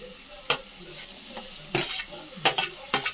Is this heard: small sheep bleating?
no